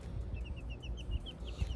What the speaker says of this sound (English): Lorraine is a red sex-linked chicken